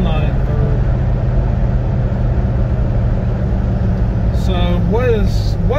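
Car with a C4 automatic transmission that is slow to shift into third holds a steady mid-rpm engine drone that rumbles continuously and close, with a person talking over it.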